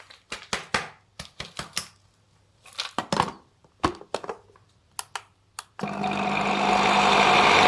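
An electric grinder grinds pistachios and almonds, first in a series of short, sharp bursts and pulses, then in a loud, continuous whirring run at the end, with no speech.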